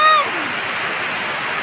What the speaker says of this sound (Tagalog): Ayan, lakas ng ulan guys.